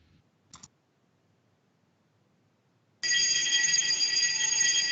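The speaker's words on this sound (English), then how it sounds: "we've got a fire alarm going off here" A building fire alarm starts abruptly after a faint click, sounding as a loud, steady electronic tone that holds without pause in an otherwise quiet meeting room.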